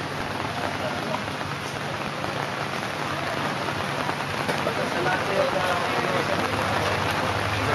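Steady rain pours outdoors near a stage at a community event, a dense, even hiss that holds for several seconds while faint, indistinct voices sit underneath.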